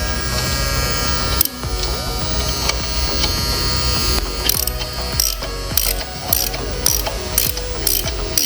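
A ratchet clicks in rapid, repeated bursts while backing out a bolt on a BMW R1300 GS motorcycle, each run of pawl clicks broken by short pauses and sharp resets, close and loud.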